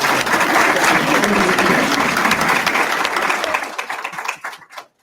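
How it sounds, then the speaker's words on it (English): Dense applause from an audience at a women in leadership panel fills the room, loud and sustained, then thins into scattered claps and fades out near the end. "So give a round of applause for our panel."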